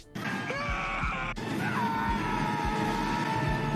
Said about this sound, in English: it's always just women screaming in these scenes for some reason